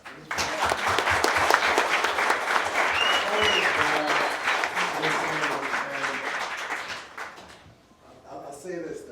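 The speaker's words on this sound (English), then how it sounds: "round of applause for these guys." A crowd at a cannabis summit breaks into loud, sustained applause with cheering voices mixed in, holding steady for several seconds before fading out near the end.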